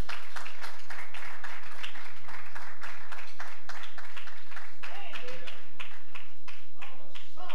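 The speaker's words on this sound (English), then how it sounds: "Give her a great big hand clap." A church congregation claps hands in a quick, steady rhythm, loud and close, with voices and music mixed underneath.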